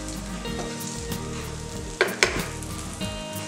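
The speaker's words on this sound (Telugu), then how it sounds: "ఇలా టూ సైడ్స్ మనం లో ఫ్లేమ్ లో పెట్టుకొని వేయించుకుంటూ ఉండాలి" Potato cutlets frying on both sides over a low flame give a steady, close sizzle, with a couple of sharp clicks and pops near the middle and no talking.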